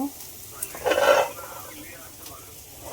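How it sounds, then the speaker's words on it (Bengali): Potatoes fry in a pan with a quiet sizzle, broken by one brief scrape of stirring near the middle, then low steady cooking noise. "আলু ভাজা বসিয়ে দিয়েছি"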